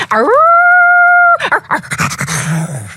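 A loud, drawn-out canine howl holds a steady pitch, then breaks into choppy yelps and growly, rough vocal noises.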